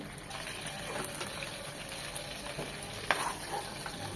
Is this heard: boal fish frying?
yes